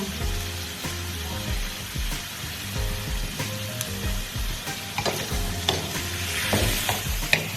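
Pork belly being stirred in a hot pan with fish sauce, seasoning sauce and oyster sauce for braised eggs with pork, giving a steady close sizzle of frying with repeated scraping stirs and no talk.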